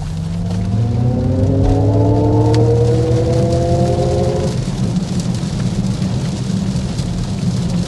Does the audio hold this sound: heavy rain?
yes